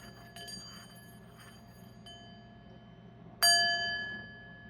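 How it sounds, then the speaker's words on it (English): A small bell rung to clear the energy in a quiet room: a few soft metallic tings early on, then one clear strike that rings out and slowly decays. "Let's ring the bell."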